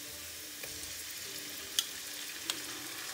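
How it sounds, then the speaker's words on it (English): Ginger garlic paste sizzling in a hot pan: steady close frying hiss with a few small pops and stirring clicks. "so in with the ginger garlic paste"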